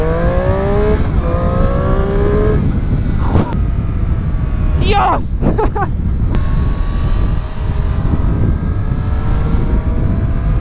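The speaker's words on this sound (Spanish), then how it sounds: "El sonido de la moto también es espectacular." A Triumph Street Triple S motorcycle engine drones loud and close while riding, its pitch climbing through rising revs and gear changes, under wind noise and a rider's brief exclamations.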